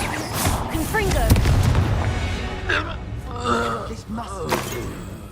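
A fiery Confringo spell blast in the Hogwarts Legacy video game lands as a deep, rumbling boom early on, partly under character voices that speak across the whole moment.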